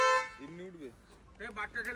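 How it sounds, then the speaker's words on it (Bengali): A parked motorbike's horn gives one short honk right at the start, fairly close, and then a person speaks briefly over quiet background. "আরেকজন বসে বসে শুধু হর্ন বাজাচ্ছে।"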